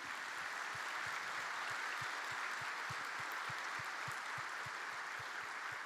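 A church congregation applauding, a continuous even wash of many hands clapping, heard at a distance and fairly faint, no voices over it.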